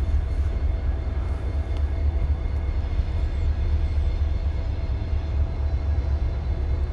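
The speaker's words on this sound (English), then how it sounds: "That's one of the mixed freights, I believe." A Norfolk Southern mixed freight train rolling past a rail yard in Columbus, Georgia, a steady low rumble of wheels and cars that holds at an even, moderately loud level from start to finish.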